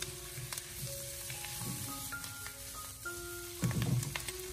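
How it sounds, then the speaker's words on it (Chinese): Garlic chive hearts stir-fried in a wok over high heat, a steady sizzle with occasional tossing scrapes under a soft melodic backing tune. "最后再继续的开大火给它翻炒几下，把调味料翻炒均匀，将韭菜心翻炒至成熟"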